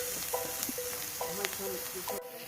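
A steak seasoned ahead of time sears in a hot pan, giving a steady, loud sizzle with brief stirring and crackling bursts throughout, close up and without talk.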